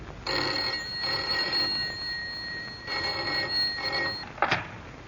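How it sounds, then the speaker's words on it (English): A telephone rings in repeated double bursts with short pauses between, clear and close, then a brief clatter as it is picked up. "the commonplace ringing of a telephone"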